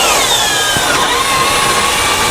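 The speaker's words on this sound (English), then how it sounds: "use our 3/8 drill bit to drill out this hole" A 3/8 drill bit bores out a hole through a metal bracket, using the bracket as a template, during a helper spring installation on a 2020 Thor vehicle; a loud, steady, continuous whining drill noise runs close to the microphone.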